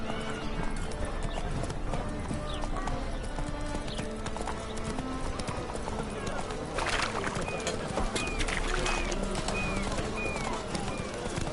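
Horse hooves in The Witcher clip-clop in a steady trot throughout, fairly close, amid game ambience with music and occasional bird-like chirps; no voice is clear over the hoofbeats.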